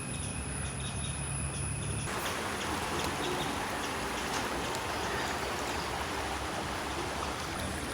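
A flooded river flowing and overflowing its banks, a dense continuous rushing wash of water heard steadily throughout, with faint insect chirps at the start.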